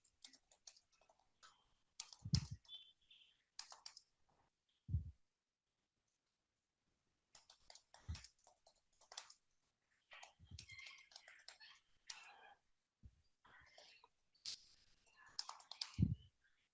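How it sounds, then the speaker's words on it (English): Typing on a computer keyboard comes as close, quiet clicking bursts with pauses between, mixed with soft thumps and breathy whispered sounds. "I'm typing something."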